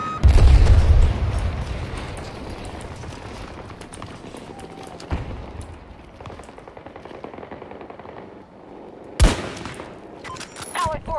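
Gunfire in the shooter Battlefield 2042, starting with a loud burst over heavy low rumble, then quieter scattered shots and mechanical clatter, one sharp crack near nine seconds, and a few later pops.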